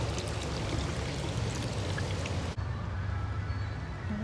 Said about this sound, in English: A lot of fountains.